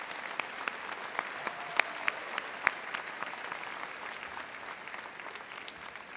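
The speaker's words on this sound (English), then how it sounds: "Let's give them a big round of applause." At a university commencement ceremony, a large audience gives sustained, even applause, dense clapping heard from a distance in a big hall, steady throughout.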